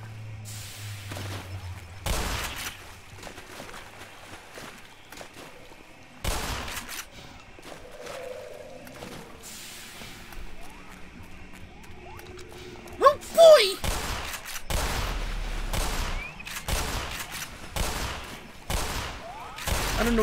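Bursts of gunfire in the Black Mesa video game, several sharp shots and short volleys spread across the scene, loud and close, with a voice talking in between.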